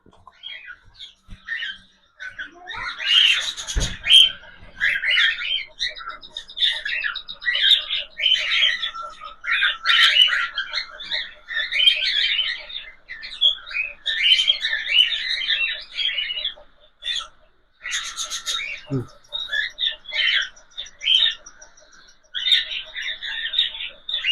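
Cockatiel parents and their young chicks call together in a near-continuous stream of squawks and chirps, loud and close, with a few sharper bursts standing out.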